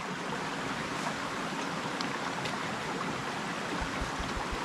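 Steady broadband rush of a mountain stream flowing close by while water is collected, continuous and fairly loud throughout with no voices.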